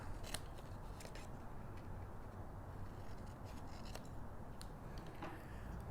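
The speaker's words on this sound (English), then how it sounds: "Then we're going to snip off our 4 corners on an angle." Scissors snip off the corners of paper laid over chipboard, making several sharp, faint cuts in an irregular rhythm over a soft, steady background, with no one speaking.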